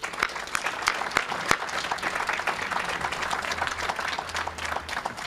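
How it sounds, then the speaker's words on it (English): A crowd at a ribbon-cutting ceremony for the first phase of Bartlett Station in Roxbury claps steadily, with individual sharp claps standing out against a continuous moderate wash of applause. "Give yourselves a round of applause"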